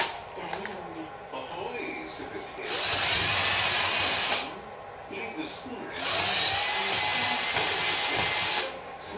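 A power drill with a 7/64 bit bores into a Powerglide transmission part in two loud, sustained high-pitched bursts. Someone speaks quietly in the gaps between the bursts.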